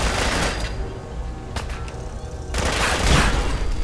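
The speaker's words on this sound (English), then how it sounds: "Oh, you're shooting and stuff." Gunfire from the video game Fallout 4, loud and continuous through the stretch, with dense bursts of shots and impacts that swell again toward the end.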